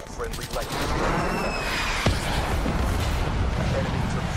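Rapid gunfire fills a Call of Duty Black Ops 3 multiplayer match: a dense, continuous fusillade with one sharp nearby shot midway, heard under a player's talking.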